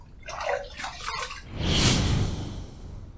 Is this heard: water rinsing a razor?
yes